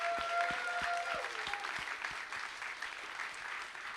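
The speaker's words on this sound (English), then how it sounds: "So please give a really big round of applause to Andrew, Heather, Jacob, Josh, and Liam" An audience at the ETHNewYork 2019 closing ceremony breaks into loud, dense applause that holds steady for the whole stretch, with a few faint tones ringing through the clapping.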